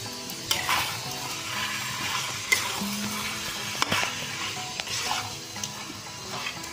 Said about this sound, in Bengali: এবার আমি মাংসটা খুব ভালো করে কষিয়ে নেব।